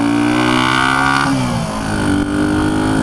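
A 1976 Honda CB125S motorcycle engine revs up in first gear, then drops as the rider shifts into second and resumes pulling, its loud buzzing tone rising, dipping briefly, then climbing again, close and alone.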